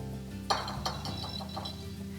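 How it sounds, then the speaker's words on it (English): Cocoa powder, baking powder and salt being whisked together in a bowl, with a few light clinks of the whisk against the bowl over a soft background tone, brief and fairly quiet. "And I'll whisk all of that together."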